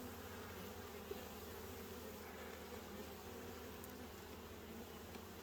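Many honey bees hum around open hive frames, forming a low, steady, faint swarm drone that never breaks, with one tiny click partway through.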